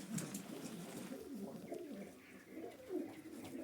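Yellow pigeons kept in pairs, male and female, coo softly and repeatedly in low rolling phrases, close but quiet, with no talking over them.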